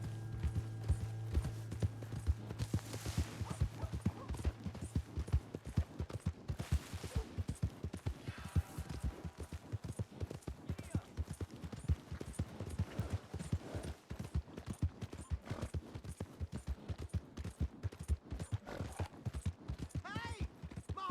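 Steady hoofbeats of a horse in Red Dead Redemption 2 clip-clop in a continuous rhythm for about twenty seconds, with a music note and occasional game effects over them.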